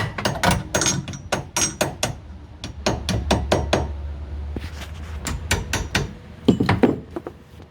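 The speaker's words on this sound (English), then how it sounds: "I take a hammer and tap them in place" Rapid metallic hammer taps in quick bursts tapping washers into place during suspension work on a Dodge Charger, close and sharp, pausing briefly between runs of strikes.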